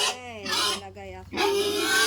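A pet pig grunts and snuffles in rough, raspy bursts while being fed, loud and close, with a short pause partway through and a person talking alongside.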